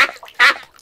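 Cartoon ducks quack at a duck pond in Peppa Pig, two loud, close nasal quacks in quick succession, the second stronger.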